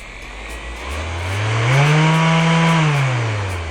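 A cordless APRO random orbital sander runs alone at its lowest speed, a steady close motor whine that rises gently in pitch and then settles over a few seconds.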